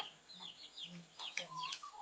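Faint, high chirping peeps from a chick, with several short tweets scattered across two seconds against a quiet outdoor background, some clucking mixed in, at low volume.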